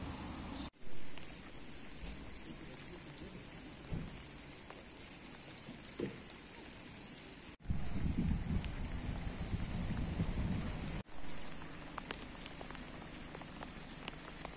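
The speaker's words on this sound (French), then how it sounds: "comme il pleut" Steady rain falls continuously on outdoor surfaces, a dense hiss that swells heavier partway through, with a few abrupt breaks and bumps, no voices.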